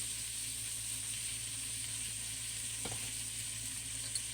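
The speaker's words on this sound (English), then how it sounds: "we're going to let these peppers and onions cook until they're nice and soft" Peppers and onions cooking in a pan with bouillon seasoning and black pepper, a steady even hiss of sizzling throughout, moderate and close, with a single brief clink near the end and no speech.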